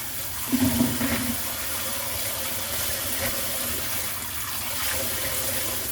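Bean sprouts rinsed under steady running water in a kitchen sink for a Korean bean sprout soup, a continuous rushing splash with a brief louder burst near the start and no talking.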